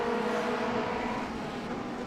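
Engines of racing cars in iRacing's Grand Prix Legends at Monza whine along at a steady moderate level, their tone bending slightly downward as they pass, with no talking.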